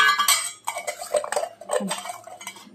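Metal pots, dishes and cutlery being washed under tap water at home: close, irregular clinks and clatters in short bursts, with no voices.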